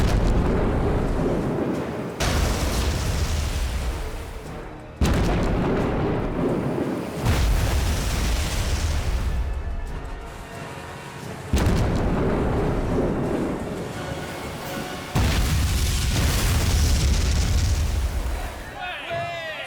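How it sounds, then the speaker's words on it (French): Heavy battleship naval guns firing in a war film, a series of huge booming blasts about every two to three seconds with long rumbling decays, loud and close, with voices shouting between shots. "Baissez les canons et feu à volonté!"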